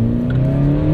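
A 300bhp VW Scirocco revs loudly and close, with a strong, steady engine drone that holds a sustained tone for about a second.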